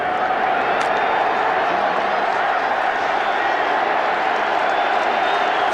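A large stadium crowd at Ford Field, including many travelling Bears fans, roars in a steady wash of cheering and noise through the whole stretch at an NFL Bears–Lions game, with no distinct break.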